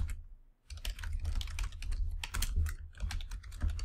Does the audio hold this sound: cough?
no